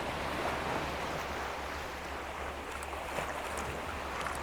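Sea water washes off the edge of a coastal rock in a small waterfall-like flow, a continuous rushing wash mixed with wind buffeting the microphone, with no voices.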